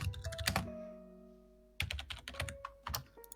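Computer keyboard typing in short clusters of sharp clicks separated by a pause, faint and close, over a low sustained tonal background.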